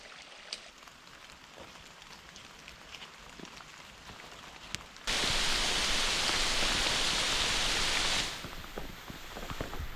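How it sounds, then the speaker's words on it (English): Pouring rain in the Australian bush wilderness, a constant soft hiss of drops on foliage that swells into a heavy, loud downpour for a few seconds before easing back. "Over an hour of trekking through pouring rain"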